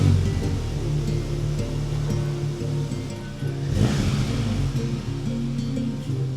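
An Audi engine with oil but no coolant runs in a steady, loud, broadband rumble with a low droning undertone. It holds fairly constant throughout, with a brief swell midway.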